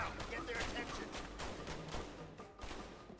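Gunfire in the co-op video game A Way Out: rapid, overlapping shots crackle in fast volleys at a low, fairly distant level, with a faint murmur of voices beneath.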